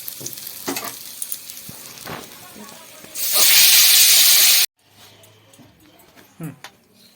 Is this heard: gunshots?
no